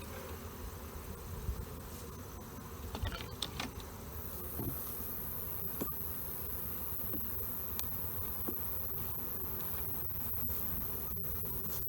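Honey bees buzz steadily around an open hive box being worked while two small colonies are combined for winter, a dense close drone with occasional louder individual passes and faint handling knocks.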